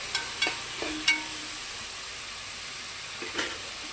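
Shahi jeera (caraway seeds) stirred in a frying pan: a soft, constant sizzle broken by a few sharp scrapes and taps of the spoon against the pan, with no talking.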